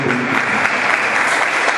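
A church congregation applauds in praise during a worship service, steady dense clapping filling the room for the whole stretch, loud and continuous with no voices over it.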